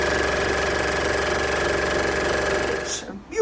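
A Bernina DCE 2000 sewing machine runs steadily, stitching samples with a continuous whirring, buzzing drone that holds evenly for about three seconds before cutting off abruptly at the end.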